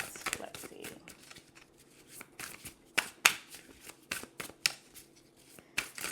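Tarot cards riffle and slap in a series of quick papery bursts, some sharp and bright, spread unevenly through a quiet room with no talking.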